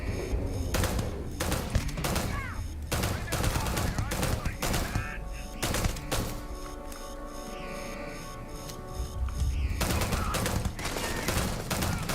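Sustained bursts of automatic weapon fire in Starfield hammer loudly and almost continuously, with short pauses between volleys and a layer of game sounds underneath.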